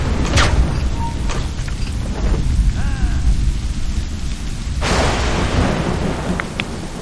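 A thunderstorm in Assassin's Creed Rogue, with dense rain and low, continuous thunder rumble, a few scattered clicks and knocks, and a fresh burst of downpour roaring up about two-thirds through.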